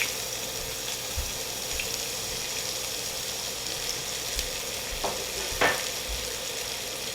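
Diced shallots hitting hot crispy pancetta in a pan, giving a steady close sizzle and frying hiss with a few soft stirring scrapes and knocks.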